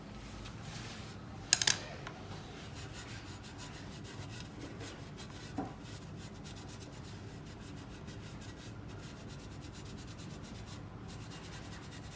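A cloth is rubbed and wiped across the surface of an antique vase being decorated, making a soft, continuous, faint scrubbing close by with a couple of brief clicks and no talk.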